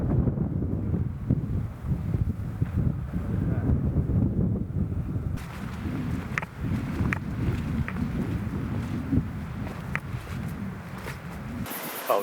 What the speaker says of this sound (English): The wind is still whipping pretty good.